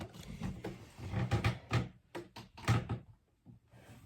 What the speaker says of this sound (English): My chair is very squeaky and I had to get all these cards from the floor